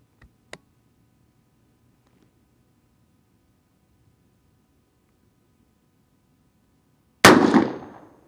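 A single sharp, loud rifle shot from a .224 Valkyrie, handloaded with once-fired Hornady brass, cracks out after a long quiet stretch and rings off into a short decaying tail; two faint clicks come earlier.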